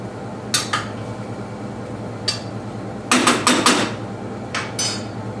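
A spoon scrapes and clatters against a pan while onions are stirred through browning meat, giving sharp irregular metallic knocks, some in quick clusters, over a steady low sizzle.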